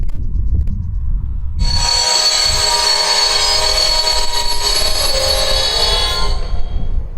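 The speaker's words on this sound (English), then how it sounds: "That's what a train sounds like when it stops." A train in Kiruna, Sweden, grinds to a stop with loud, sustained high-pitched wheel squeal that starts abruptly after low rumbling, holds steadily for several seconds nearby, then fades out.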